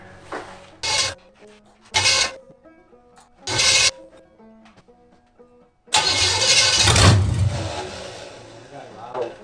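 A freshly assembled 350 Chevy small-block V8 with a warm carburetor, set to idle very low: short rough bursts give way to a louder, steady close-up rumble in the last few seconds.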